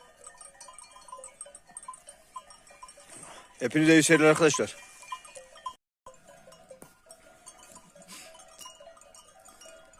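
Sheep bleat on a mountain pasture with a cowbell clanking among livestock; one loud, wavering bleat stands out near the middle while softer animal calls and bells continue around it, with someone speaking briefly.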